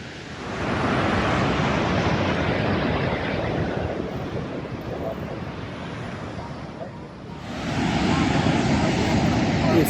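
Niagara Falls pours with a steady, broad roar of rushing water, loud and continuous, dipping slightly before surging back up near the end, with wind buffeting the microphone.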